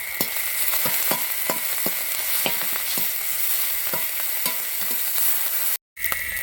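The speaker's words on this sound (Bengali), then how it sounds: "পেঁয়াজটাকে একটু ভালো করে ভেজে নেব।" Onion paste fries in a pan with a loud, continuous hiss, while a utensil scrapes through it in repeated strokes about every half second, and the sound cuts out briefly near the end.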